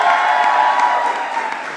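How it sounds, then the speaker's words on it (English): Audience applause for Roxana at a White House event celebrating Hispanic economic and education progress fills the room, a dense, steady wash of clapping from a large crowd that fades slightly toward the end. "Please give Roxana a huge round of applause."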